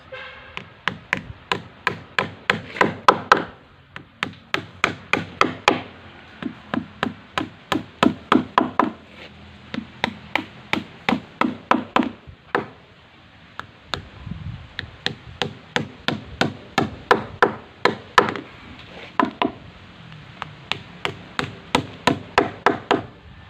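A hammer drives nails into a wooden boat hull in steady bursts of sharp, ringing knocks, several rapid blows per nail, with brief pauses between nails, close and loud throughout.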